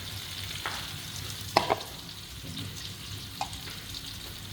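Tofu and green beans stir-fried in a pan give a steady sizzle throughout, with a few sharp spatula scrapes and clacks against the pan at irregular intervals.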